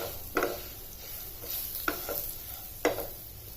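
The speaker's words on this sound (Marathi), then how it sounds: "आता हे सर्व साहित्य व्यवस्थित मिक्स करून घ्यायचं" A spoon scrapes and stirs a green chilli curry in a pan over low heat, with spices and salt mixed in, three distinct stirring strokes over a soft sizzle.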